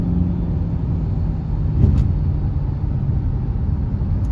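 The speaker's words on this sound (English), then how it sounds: "I know he heard my engine." A Chrysler 300 engine rumbles steadily at low pitch as the car drives, with a brief hiss partway through, no talking.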